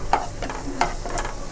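Finely chopped carrots stir-frying in hot oil in a kadai for chicken fried rice, with a close, continuous sizzle broken by quick rhythmic scrapes of a spatula against the pan.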